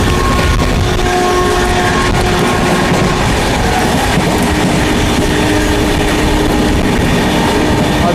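A long-distance passenger train on the New Delhi to Gaya route runs through Bhopal station without stopping, with a steady, loud rumble and rhythmic clatter of wheels over rail joints throughout, and no voices.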